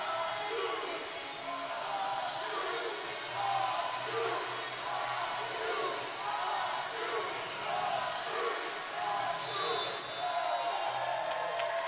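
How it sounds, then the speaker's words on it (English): A crowd at a college volleyball match at the Dedman Center cheers and yells in waves, fairly distant and steady throughout, with a commentator's voice running over it. "And the crowd getting into it here at the Dedman Center."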